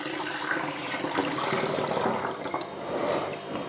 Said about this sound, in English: Let's put half liter more water inside.